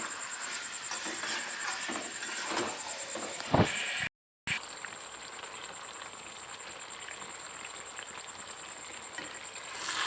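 Chicken pieces, fried earlier with yogurt, sizzle steadily in oil as they are sautéed down in a pan, a soft continuous crackle with a brief louder clatter midway and a moment of silence.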